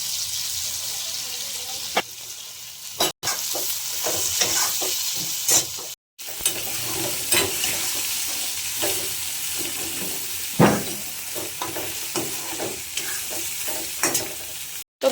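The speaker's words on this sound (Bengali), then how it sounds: "আর একটু লবণ দিয়ে একটু নাড়াচাড়া করে দেবো, মানে একটু হালকা ভাজা ভাজা করে নেব" Soya chunks frying in a hot pan while being stirred, a steady sizzle broken by repeated scraping strokes of a spatula, close and fairly loud with a few brief cuts.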